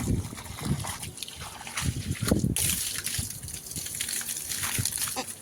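Water from a directly run motor pump splashes and trickles onto garden plants, a steady wet patter with gushing bursts, fairly close and moderately loud, with no talk over it.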